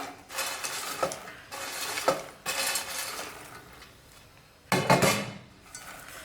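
Chocolate-coated popcorn stirred in a pan, with scraping, rattling strokes in bursts separated by brief pauses, close and moderately loud, with no voices.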